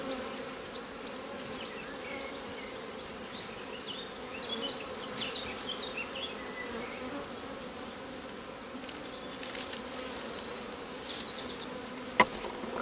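Honey bees swarm in an opened hive, filling the air with a dense, continuous buzzing hum, close and sustained, with occasional louder bees passing near and a sharp tap toward the end.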